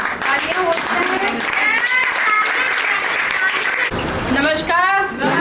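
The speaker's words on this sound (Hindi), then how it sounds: "जोरदार तालियों से स्वागत करें" An audience claps to welcome a speaker at a franchise launch event, the applause running under loud amplified voices and what may be music, with a brief break near the end.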